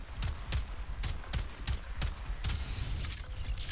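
Evenly spaced gunshots in the Atomic Heart game, about eight sharp reports roughly half a second apart over mechanical creaking and clanking.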